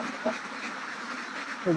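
Ducks on a duck farm let out a couple of short, nearby quacks, one early and one at the end, over a low, steady background murmur.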